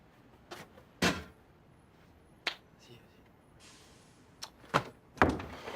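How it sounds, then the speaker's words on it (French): A door closing indoors with a couple of sharp knocks and a louder slam near the end, set among other brief clicks and bumps in a quiet room. "S'il te plaît, ferme la porte."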